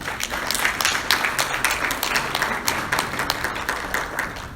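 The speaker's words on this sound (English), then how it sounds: "give a big round of applause for our panel" Attendees at a Long Beach Comic Con panel on Latina superheroes break into applause, a steady crowd of hand claps in a large room with no talking over it.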